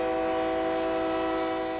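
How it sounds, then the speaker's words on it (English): A train horn sounds steadily, a loud sustained multi-tone blare holding for the whole moment, with no pause or break. "trains, trucks, all day long, it's noise pollution."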